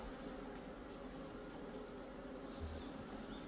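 Steady buzzing of a giant hornet, low and droning, continues under a noisy outdoor hiss without pause.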